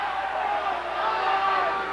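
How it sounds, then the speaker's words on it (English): A high school basketball crowd, mostly students, lets out a loud sustained roar of disapproval at a referee's call in a packed gym, a steady massed noise of many voices. "you heard the reaction of the crowd, mostly student body"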